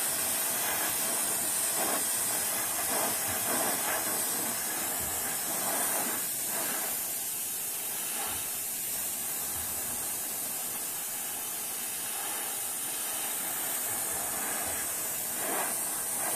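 Airbrush shooting Vallejo Surface Primer straight onto a model, a steady, close hiss of spray running nearly unbroken with slight surges as the trigger is worked.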